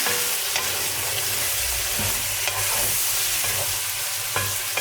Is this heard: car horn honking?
no